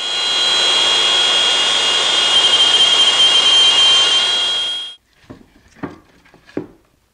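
A router cuts out the middle of a curved wooden apron for a hall table, making a loud, steady high whine for about five seconds before shutting off, followed by a few faint knocks.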